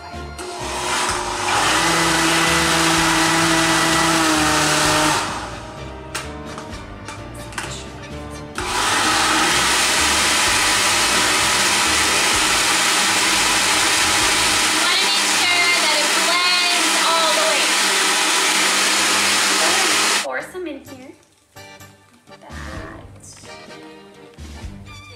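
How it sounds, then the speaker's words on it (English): A kitchen blender runs on its highest setting, liquefying flan mix with a loud, close whir in two long sustained runs separated by a brief pause, then cuts off, leaving softer handling noises. "we're gonna go ahead and blend our flan mix. And you wanna make sure that it's at the highest setting."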